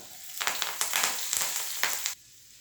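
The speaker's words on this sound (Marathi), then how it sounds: "त्यात अद्रक टाकते मी पहिले आणि कढीपत्ता" Ginger and curry leaves hit hot oil for vegetable rice, giving a loud burst of crackling sizzle with sharp spits for about two seconds before it cuts off abruptly.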